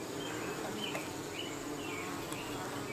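Honey bees fly busily in and out of a Warre hive, a dense, constant droning buzz with individual bees briefly passing close, no voices.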